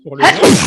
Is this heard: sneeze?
yes